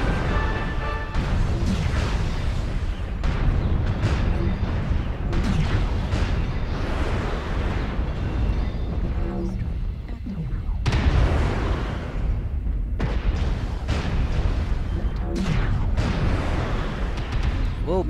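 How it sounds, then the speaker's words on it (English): Missile explosions rumble and crash in a Battletech video game around a Bushwacker mech, a dense continuous barrage of booms with repeated heavy impacts filling the whole stretch. "Whoa, missiles."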